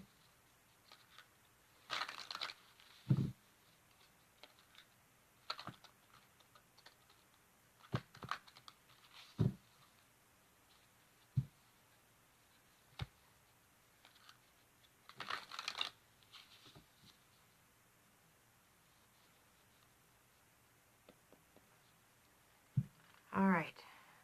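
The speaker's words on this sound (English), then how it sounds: "Give me just a moment while I shuffle up." Soft, intermittent shuffling and riffling of tarot cards with scattered taps and quiet pauses, close and gentle.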